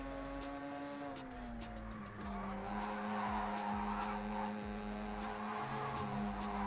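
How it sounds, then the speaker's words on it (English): A tuned Mazda RX-8 engine in a racing video game drones and shifts pitch with tire squeals and skidding, a racing exhaust note held steady throughout. "Now it sounds like a proper tuned RX-8."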